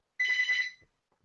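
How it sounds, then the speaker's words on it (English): A telephone gives a single short electronic ring burst, clear and isolated against near silence, lasting under a second. "it's someone else's turn because the phone is ringing"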